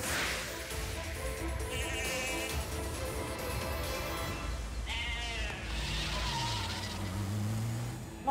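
Cartoon sheep bleating in short wavering calls amid swishing action effects and music, with a quick bleat cluster around the middle and a lower drawn-out bleat near the end.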